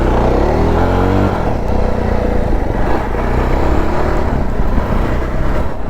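A Jawa Bobber 42 motorcycle engine drones steadily while being ridden, a loud, close, continuous rumble with a slight rise in revs early on and no talking.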